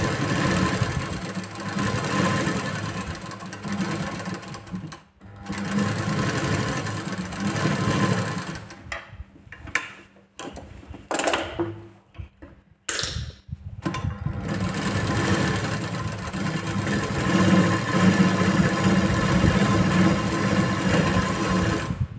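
A sewing machine runs steadily, stitching a blouse sleeve onto the shoulder joint. Its whirring mechanical hum continues for long stretches, breaks off in short pauses and restarts, and it stays close and fairly loud throughout.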